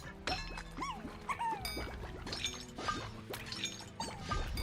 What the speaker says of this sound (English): I have a nightlight, which makes weird glass breaking noises every time you touch it